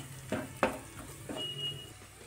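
Egg bhurji cooks quietly in a pan with coriander and cumin powder, a soft low sizzle broken by a few brief spoon scrapes and taps against the pan.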